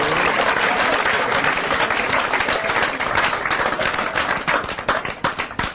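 Loud, close applause from a church congregation during a sermon, dense and continuous throughout, turning into more distinct individual claps toward the end.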